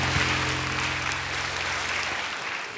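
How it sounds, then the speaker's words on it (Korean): Congregation applauding during a Sunday church service, a steady even wash of clapping over a low sustained hum, with no voices. "박수하며 격려하겠습니다."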